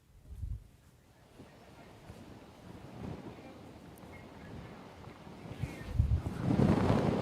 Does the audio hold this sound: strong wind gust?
yes